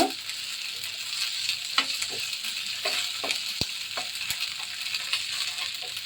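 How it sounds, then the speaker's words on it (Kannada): Spices roasting and sizzling in a hot pan for mutton pepper fry, a steady loud crackle with occasional clinks of a spoon against the pan. "थोड़ा रोस्ट कर लीजिए, इसकी कच्ची बात जाने तक"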